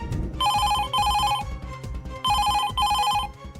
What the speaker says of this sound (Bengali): ফোনটা ধরছে না কেন?